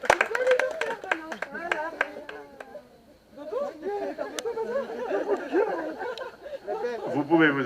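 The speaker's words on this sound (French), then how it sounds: "Vous pouvez l'applaudir." Congregation clapping after a child's baptism in a French church: scattered sharp claps at first, then a softer patter of hands mixed with chatter, children's voices and light laughter, people talking over it.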